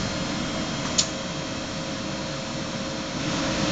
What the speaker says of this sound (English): We'll jog out the vacuum underwipe.